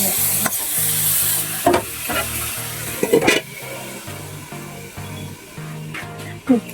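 Food frying in a pan in a home kitchen, a steady sizzling hiss broken by a few sharper spatters and stirring scrapes, close and fairly loud with no talking.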